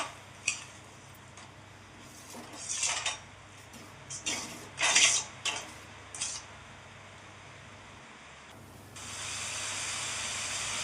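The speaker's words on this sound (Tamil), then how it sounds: "கொதிக்கட்டும் கொஞ்சம் நேரம்." Butter beans masala simmering in a pan, with soft steady hiss and sizzle, a few louder bursts of bubbling and clinks of utensils against the pan, then a rising broad hiss toward the end.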